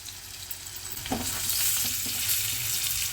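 Four green chillies hit a hot pan over a high flame while Bengali sheem chorchori is being cooked, giving a steady, close sizzle and crackle with a brief stirring clatter early on.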